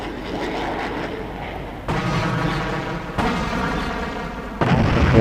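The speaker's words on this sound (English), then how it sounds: "The explosions from the engines" Explosions from the engines of a hit enemy aircraft in the flight combat game F-22 Total Air War: a rumbling roar broken by three sudden, loud booms, each leaving a crackling, ringing tail.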